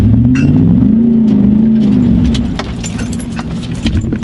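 A truck's big 6.2-liter American V8 idles with a deep, steady low rumble that swells slightly and then settles. It sounds close and fills the whole clip with no talking over it.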